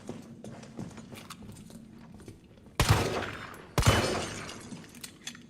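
Two loud, sharp gunshots, roughly a second apart, fired at a creature in the video game Resident Evil 3, each leaving a noisy decaying tail over a low background of game sound.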